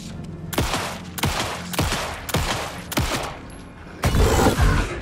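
Heavy gunfire in the survival horror game Alan Wake 2: six loud, sharp shots spaced about half a second to a second apart, each with a ringing tail, the last one fuller and longer.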